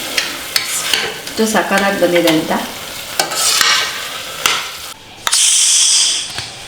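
Grated pumpkin halwa with ghee being stirred in a pan, close, brisk scraping and clinking strokes with a light sizzle, someone speaking briefly over the stirring before it stops and a hiss follows.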